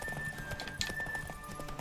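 A horse gallops in the video game The Witcher 3, quick rhythmic hoofbeats clip-clopping close by, with a brief whinny partway through, over quiet game ambience.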